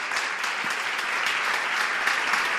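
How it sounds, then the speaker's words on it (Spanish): A church congregation applauding during a sermon, a thick, even roar of many hands clapping that holds steady and loud from start to finish, with no voices. "Denle un fuerte aplauso al Señor."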